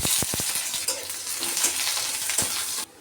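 Chopped onions hitting hot oil already seasoned with cumin and torn dried chili, setting off a loud, close sizzle with a few stirring scrapes before it cuts off abruptly near the end.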